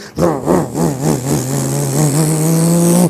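A KSRTC bus engine roars as it climbs a mountain pass through mist. The loud, throaty drone rises and falls in several revving surges, then settles into a steady, strained hum.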